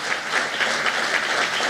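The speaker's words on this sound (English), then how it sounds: "They do deserve a round of applause." A crowd claps steadily, a dense, sustained round of applause with no voices standing out.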